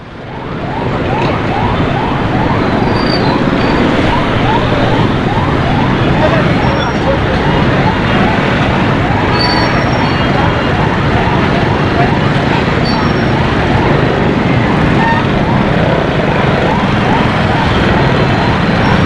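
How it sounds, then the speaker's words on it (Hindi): An ambulance siren wails loudly and continuously for the whole stretch while the ambulance sits stuck in traffic on a congested Karachi street in Lyari. Its repeating rising and falling tone sits close over a dense bed of traffic noise. "आगे एम्बुलेंस भी फंसी हुई है बहुत बुरी।"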